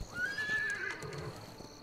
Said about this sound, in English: Nah, I got the fastest horse.